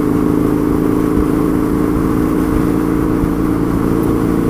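Husqvarna Nuda 900R motorcycle engine pulling while ridden, a loud continuous low growl with rumble and wind noise throughout.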